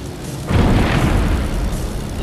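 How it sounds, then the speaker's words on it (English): A large explosion goes off in the video game Air Royale, a sudden loud broadband boom that hits after a quieter stretch and rolls on as a sustained rumble. "I just heard a big giant explosion."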